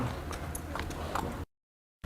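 Hooves of a racehorse walking, a few soft clip-clop steps on hard ground heard close, then a brief dead silence before the sound resumes.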